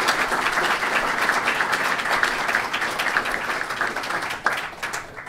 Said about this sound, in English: First, a round of applause for our panelists.